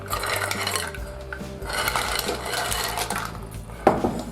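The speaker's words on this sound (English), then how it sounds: "Now we're going to add the clams." Clams dropped into a clay pot of prawns for a Mediterranean shellfish casserole, rattling clinks and shell clatter close up, with a sharper knock near the end.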